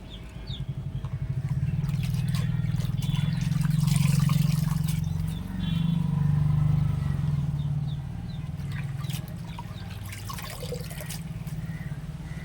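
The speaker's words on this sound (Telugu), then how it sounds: "ఈ గోంగూర కూడా చక్కగా కడుక్కొని ఇందులోనే పెట్టేసేసుకుని ఉడికించుకోవాలండి" Gongura (sorrel) leaves are washed in water in a home kitchen, giving faint, irregular splashing and trickling over a steady low hum, with no speech.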